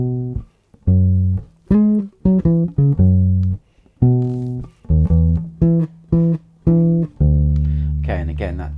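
Bass guitar playing a line from a song, short detached notes in a bouncy rhythm, close and clear, ending on a sustained note under a brief spoken voice.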